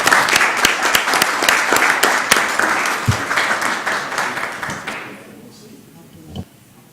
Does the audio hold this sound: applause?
yes